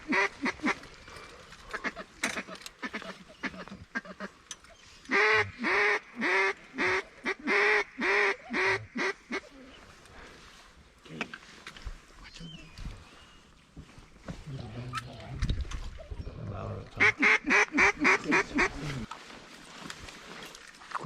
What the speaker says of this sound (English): Watch the mallard. Watch the mallard.